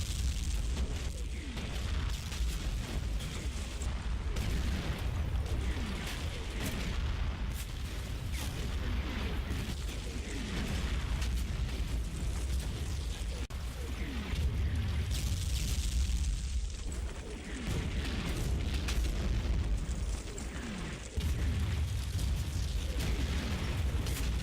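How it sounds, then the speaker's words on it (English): An artillery barrage on a junction objective in the WWII wargame Combat Mission Fortress Italy, with dense, continuous rumbling explosions and booms rolling on steadily at high volume throughout. "Then the barrage begins on the junction objective."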